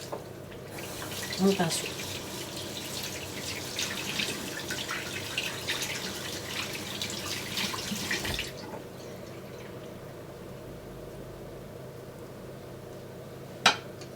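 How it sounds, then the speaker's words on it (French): Running tap water pours steadily over a makeup brush being rinsed in a sink, then cuts off abruptly, leaving near silence and a single sharp knock near the end; someone talks briefly over the flow. "je viens rincer sous l'eau"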